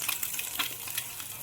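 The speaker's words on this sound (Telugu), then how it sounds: "ఎగ్స్ ఫ్రై చేయాలి" Eggs frying in a pan with turmeric, salt and chili powder give a steady, close hiss and sizzle with faint scraping, with no voices over it.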